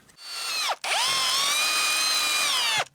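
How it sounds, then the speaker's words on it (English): A power drill whines up to speed, stops briefly, then runs again in a long steady high-pitched burst before winding down, close by, drilling screw holes aboard a catamaran sailboat. "We'll go ahead and drill those out"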